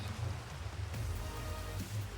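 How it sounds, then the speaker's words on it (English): Steady, soft rain patters over a low rumble in Minecraft, a constant wash of drops with no distinct thunder. "Of course it's raining."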